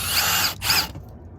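Cordless power drill driving a screw into a 2-inch galvanized HVAC band strap, two short close bursts of whirring separated by a brief pause.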